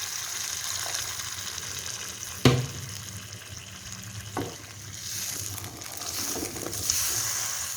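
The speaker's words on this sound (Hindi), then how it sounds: "अब हम क्या करेंगे कि इसके अंदर 2 ग्लास पानी ऐड कर देंगे।" Water poured into a pan of frying crab curry masala over a medium flame, a steady sizzle and bubbling with a couple of sharp splashy bursts, close and moderately loud, no voices.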